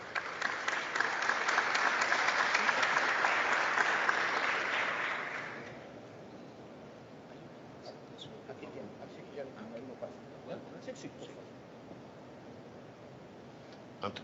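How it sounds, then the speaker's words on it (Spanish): An audience at a democracy forum in the Congress of the Republic applauds an economist being introduced, with steady, full clapping for about five seconds that then fades into a quiet room with scattered small sounds. "Lo recibimos con fuertes aplausos"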